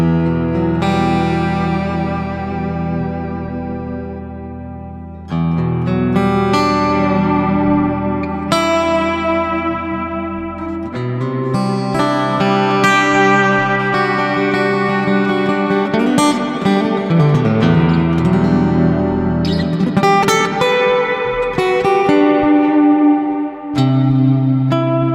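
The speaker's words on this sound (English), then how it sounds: "I set a patch dedicated to the acoustic guitar, add a bit of reverb here." A PRS SE Custom 24 semi-hollow guitar played through its piezo pickup on an acoustic patch with added reverb rings out in chords and picked notes, loud and continuous, with no talking.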